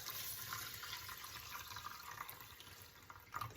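A steady stream of water pours continuously into a pot of rice, close by, with a soft hiss and gurgle and no talking.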